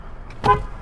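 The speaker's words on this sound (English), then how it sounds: "Oops, horn works." A single short toot of a 2002 Toyota 4Runner SR5 4x4 horn, a brief clear honk close by against quiet background.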